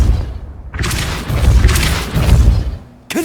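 A Depulso knockback spell lands in the Hogwarts Legacy video game with a heavy booming impact, followed by a sustained rumbling burst of blast energy and a second sharp hit near the end, loud and close, with no talk.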